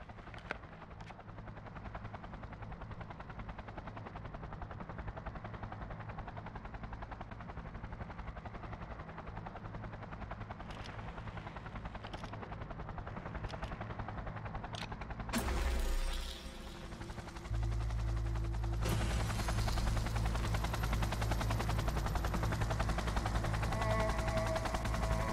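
An aerial vehicle lifting off in Cyberpunk 2077: a steady engine drone builds, then a loud surge of roaring thrust takes over and holds, with scattered sharp cracks earlier on.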